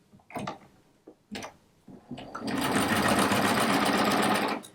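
A sewing machine stitches a row of quilt blocks for a rag quilt, running steadily and loud for a couple of seconds after a few short taps and handling noises.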